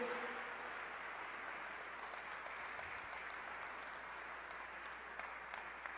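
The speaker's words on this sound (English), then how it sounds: "Let's give another warm round of applause for Brother Rasul Muhammad." Audience applause for Brother Rasul Muhammad at a Ministry of Love gathering: steady, fairly faint clapping from a crowd that holds evenly for several seconds without a break or a swell.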